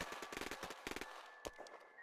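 Combat in a besieged facility, with a rapid burst of gunfire and sharp shots in a dense, loud volley, then a single heavy blast and a few scattered reports, with no voices.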